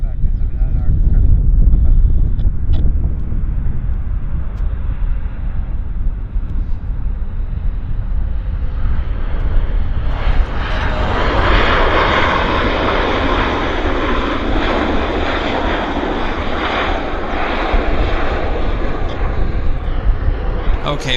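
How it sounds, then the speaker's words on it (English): An Air Canada airliner lands at Vancouver Airport, its engine roar steady and loud throughout, swelling into a broad rushing noise midway as it touches down, with wind buffeting the microphone. "Beautiful landing here, Air Canada on this side."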